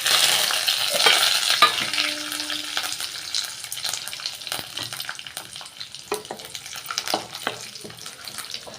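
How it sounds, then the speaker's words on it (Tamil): Cumin, mustard seeds, chana dal, cashews, peanuts and curry leaves hit hot oil with a loud initial sizzle and crackle, then settle into steady, quieter frying with scattered pops and stirring. "இப்போ எண்ணெய் நல்லா சூடாகிடுச்சுங்க, சேர்த்துக்கிறேன்."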